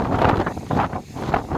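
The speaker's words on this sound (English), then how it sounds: "It's stupidly windy all of a sudden" A brief burst of strong, gusty wind roaring and buffeting against the microphone, rising and dipping in a low rumble.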